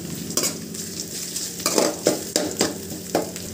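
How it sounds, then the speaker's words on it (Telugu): Ginger garlic paste sizzling in a hot pan for Maggi noodles, with steady frying hiss and several rhythmic scraping stirs of a spatula, close and clear. "కొంచెం వేగిన తర్వాత అల్లం వెల్లుల్లి పేస్ట్ వేసుకోవాలి"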